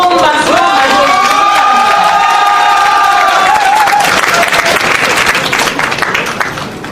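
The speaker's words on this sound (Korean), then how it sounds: "뜨거운 박수로 맞이해주십니다" A political party convention crowd greets a candidate speaker with loud, sustained applause and cheering that fills the hall, fading slightly toward the end.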